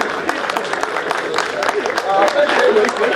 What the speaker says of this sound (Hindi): सब तालियों की गड़गड़ाहट से इनका स्वागत करें